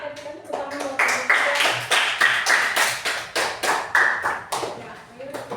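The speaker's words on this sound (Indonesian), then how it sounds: "Kita berikan tepuk tangan buat kalian." A classroom of students claps after a group discussion, a loose patter of hand claps in uneven bursts for several seconds, with some voices mixed in.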